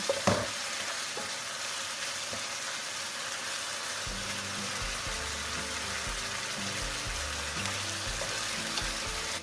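Squid with garlic and pepper stir-fries in a hot pan, a loud, dense sizzle that holds steady throughout, with occasional scraping of the utensil and a low rumble in the background.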